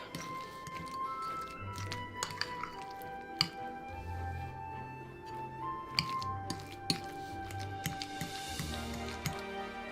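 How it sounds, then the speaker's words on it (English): Egg salad being mashed together with mustard and seasoned salt, soft wet squishing and dripping sounds with occasional light clinks of a utensil against the bowl, quiet and close. "Smash that all together until well combined."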